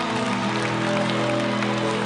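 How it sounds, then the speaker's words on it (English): Crowd applause at a morning gospel show, blended with sustained background music that continues beneath the clapping for the whole stretch. "Come on, give a round of applause."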